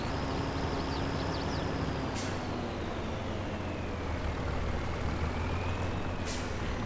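Heavy lorry engine in Farming Simulator 22 hauling a heavy machine uphill, a steady loud low drone with whining gear tones and two short hissing air-brake bursts.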